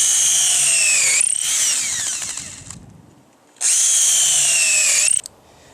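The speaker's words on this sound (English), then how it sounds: "I'm going to start out on the top with my 5/16 drill bit" Two loud bursts of a power drill with a 5/16 bit boring into a mushroom log outdoors, each whining for over a second then winding down, separated by a quiet pause.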